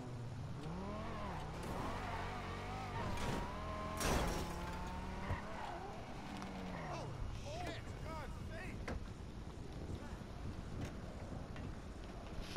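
A car engine belt screeching outside at 4 a.m., heard as wavering high-pitched squeals over steady wind-like noise, with a loud burst around four seconds and fainter squeaks trailing off later.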